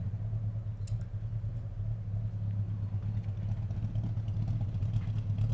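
Ford Falcon XF car engine idling nearby, a steady low rumbling hum with slight mechanical clatter, even and continuous with no talk.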